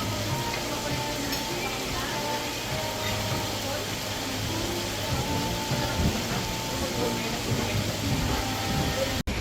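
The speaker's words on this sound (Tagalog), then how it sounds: "Oh shit, lakas ng hangin." Strong wind roars and buffets steadily against a Yamaha Aerox V2 scooter on a morning couple ride in Tanay, Rizal, with a dense, loud rush filling the whole clip and voices faintly underneath.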